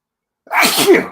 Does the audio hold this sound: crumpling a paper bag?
no